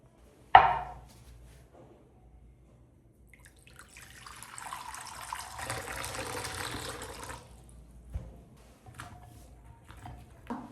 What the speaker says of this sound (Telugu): ఇప్పుడు ఈ చిన్న చిన్న బెండకాయల్ని నీట్గా వాష్ చేసుకుందాం పదండి.